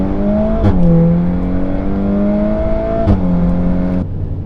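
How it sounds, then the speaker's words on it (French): A Volkswagen Golf 8 R running a full exhaust line with a tune revs up twice, each time a loud, close rising roar that drops back to a throaty idle. "Une ligne complète en programmation, ça fait un peu de bruit aussi, c'est vraiment cool."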